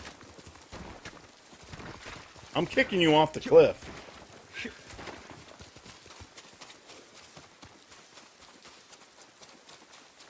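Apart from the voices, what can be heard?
horse galloping in the video game Ghost of Tsushima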